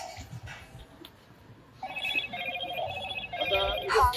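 A mobile phone rings at a roadside gathering in Maharashtra, its tonal electronic ringtone rising over ongoing talk and a noisy outdoor background.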